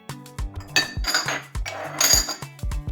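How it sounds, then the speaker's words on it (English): A metal pizza pan loaded with a seafood pizza is slid into an oven, giving a quick series of close clanks, scrapes and metallic clinks over a few seconds. "Let me pop this pizza in the oven"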